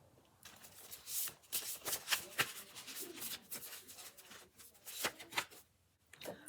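Tarot cards are shuffled by hand in a quick series of crisp riffling and flicking bursts, close and fairly quiet, with no talk.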